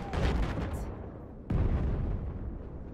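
C4 charges detonating on a tank in Battlefield 4, heard as a heavy boom at the start followed by a second sharp blast midway, both with long rumbling tails, no talk over them.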